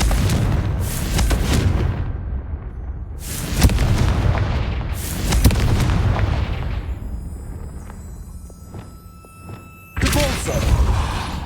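Spell blasts from Confringo in Hogwarts Legacy: a series of loud booming explosions, several heavy thuds spread across the span with crackling bursts and ringing tails, ending in a fresh blast, with no talking.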